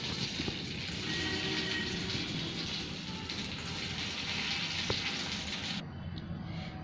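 Whole spices, including cracked cardamom pods, sizzle steadily in hot mustard oil with a dense, continuous crackle, close and fairly loud, that drops away sharply near the end.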